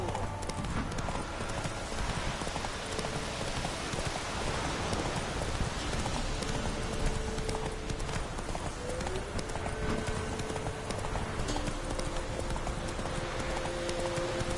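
A horse gallops in The Witcher 3 video game, its hoofbeats clip-clopping steadily and continuously throughout against a rainy background wash.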